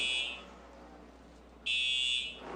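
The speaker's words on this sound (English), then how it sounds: "We have some sort of an alarm going off." An electronic alarm beeps loudly in two high-pitched bursts at a NASCAR race, the first fading out and a second sounding after a pause, over a low background hum.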